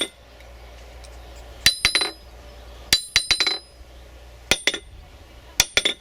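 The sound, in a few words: hammer dropped onto a cast steel anvil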